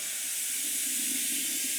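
A steady, broadband hiss of liquid spraying under pressure out through a tube, continuous and fairly close, with no talking.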